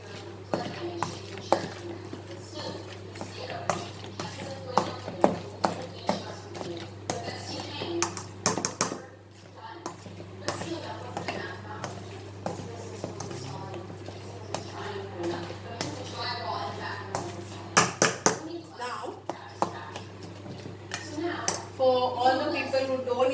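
Bread fritter mixture of leftover bread and cheese being mashed in a bowl, repeated sharp taps and scrapes of a utensil against the dish under a speaking voice, with a steady low hum.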